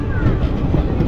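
A crowded express train on the Kolkata to Bolpur route on Holi rumbles steadily with low mechanical noise, close and continuous, with voices faintly mixed in.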